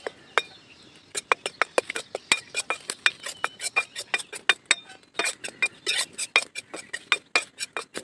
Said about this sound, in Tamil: கோதுமை மாவு போட்டு வறுத்துக்கலாம். இந்த மாதிரி நல்லா வறுத்துக்கலாம்.